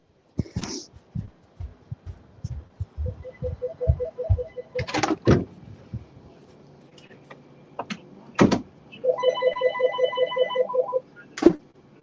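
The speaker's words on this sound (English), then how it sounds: "the phone's ringing" An old-style telephone bell rings in two bursts of rapid trilling, each a second or two long, with a short clack and scattered knocks and thuds between the rings; no talking.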